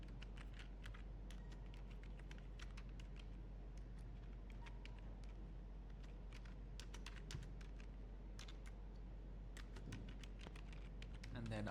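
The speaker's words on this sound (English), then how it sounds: "I'm gonna just type what services do you provide," Typing on a computer keyboard, a steady run of quiet, quick key clicks in irregular bursts over a constant low background hum, with no talking.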